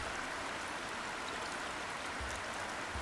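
Steady broadband rush of flowing water in the video game Plentiful, continuous and even like a stream or trickle, with no talk over it.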